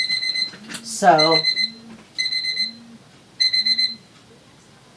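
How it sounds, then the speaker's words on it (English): A kitchen-style countdown timer beeps in short repeated bursts of rapid pulsed tones, three clear groups spaced about a second apart, while a person speaks briefly close by. "there's our timer anyway"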